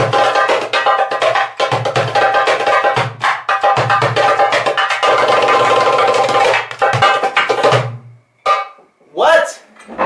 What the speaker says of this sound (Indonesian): Ini adalah darbuka murah, aluminium, dan suaranya juga suaranya kayak suara murah